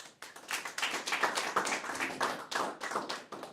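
A small audience at a coding bootcamp demo day claps for a student presenter, a loose patter of individual hand claps, fairly close and modest in volume, with no voices over it.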